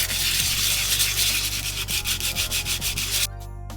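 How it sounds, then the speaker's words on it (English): Sandpaper being rubbed back and forth over glass vases to rough them up, heard as loud, close, rhythmic rasping strokes that stop abruptly near the end. "So now I have some sandpaper. I'm just going to rough both pieces up just a little."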